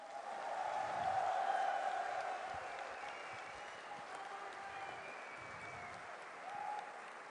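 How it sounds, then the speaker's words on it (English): An esports tournament audience at a StarCraft 2 grand final claps steadily, a dense wash of applause that swells early, eases a little, and continues without cheering or voices standing out. "let's give a big round of applause to our second place player, MaNa."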